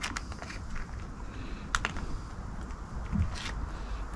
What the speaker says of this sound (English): two slices of spam. And we'll just cut that up.